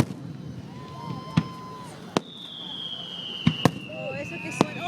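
Fireworks over Huntington Beach, 2012, heard from a crowd: several sharp distant booms and pops at uneven intervals, with whistling trails and people talking quietly underneath.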